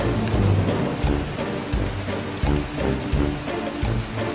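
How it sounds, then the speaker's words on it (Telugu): Heavy rain falls outside in a steady, dense wash of noise, with heavier gusts surging at regular intervals and no voices. "బయట బాగా వర్షంగా ఉంది కదా"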